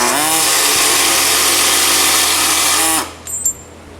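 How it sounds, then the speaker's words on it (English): A miniature reciprocating saw cuts steadily with a loud, close buzzing whine for about three seconds, then stops abruptly, followed by a few faint clicks. "Just like a miniature sawzall."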